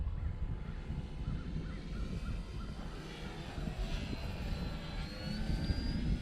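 A Clipped Wing Piper Cub comes in to land over rough ground, its engine droning at moderate distance with a steady propeller buzz throughout and no talking.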